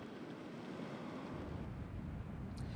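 Rough surf breaking along a beach in Sussex County, a broad, continuous wash of crashing water mixed with heavy wind buffeting the microphone, loud and steady with no voices.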